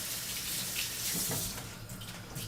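Water runs steadily from a kitchen tap while napa cabbage is rinsed beneath it, a continuous close hiss and splash that holds at an even level throughout.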